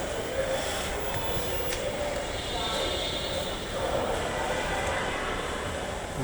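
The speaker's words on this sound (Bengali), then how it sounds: "মতিঝিল থেকে দেওয়া বাড়ির উদ্দেশ্যে মেট্রো রেল" A Dhaka metro rail train runs from Motijheel toward Diabari, giving a steady, even rumble and whoosh that holds throughout at moderate loudness, with no talking.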